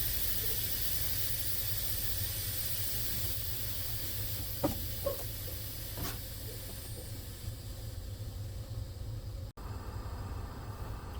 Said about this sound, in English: I'm going to press in both valves to allow my air pressure to settle.